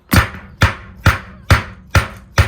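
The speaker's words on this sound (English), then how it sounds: "I'm gonna hit it with the C-clamp" Six sharp wooden knocks from a steel C-clamp striking a tight glued wood joint in trim carpentry work, evenly spaced about half a second apart, close and loud, with no talking.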